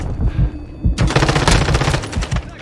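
An M4 rifle in Modern Warfare 2 opens up after a quieter start, firing a fast, loud, sustained automatic burst of close shots.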